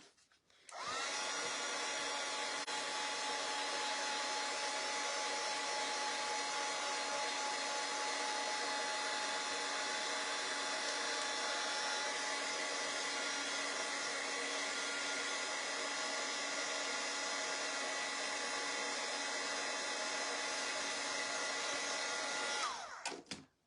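A heat tool blows steadily for over twenty seconds to dry transferred chalk paste, a loud continuous whirring roar with a faint whine that starts and stops cleanly, with no talk.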